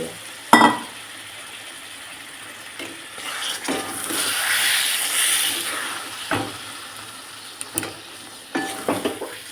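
Marinated mutton and sour yogurt added to a spice masala, hissing and sizzling in the pan, with a swell of steamy frying and occasional sharp clanks of a utensil stirring against the pot.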